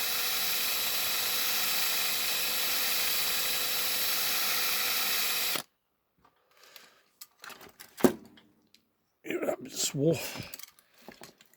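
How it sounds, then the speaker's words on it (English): A drill run at very slow speed bores out a brittle plastic rivet post on a Matchbox Super Kings articulated tanker, a steady close whine for several seconds that cuts off, followed by soft handling noises and a voice talking. "just drill out that rivet post"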